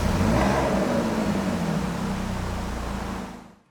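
Alfa Romeo Quadrifoglio V6 engine in its quieter A driving mode, giving a loud, steady, close-up roar with a low rumble that holds for about three seconds before cutting away.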